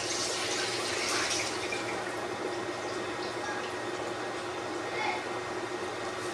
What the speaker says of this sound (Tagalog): Nilagyan ko na din ng mainit na tubig.